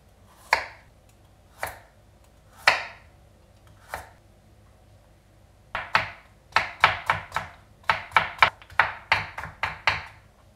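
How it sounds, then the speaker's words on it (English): A knife julienne-cuts a peeled vegetable into thin strips on a board, first four slow, spaced crisp chops, then a quick rhythmic run of about a dozen close, sharp strokes. "basically we're going to julienne cut this into about 2-inch strips"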